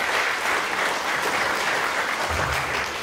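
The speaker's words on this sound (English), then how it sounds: "Let's all clap for that." An audience claps steadily throughout at a school kickoff rally in McDowell County, a dense, even patter of many hands with no voices standing out.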